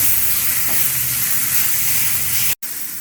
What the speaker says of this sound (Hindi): हम ये टमाटर डाल देंगे। इसको भी थोड़ा सा हमें भूनना है।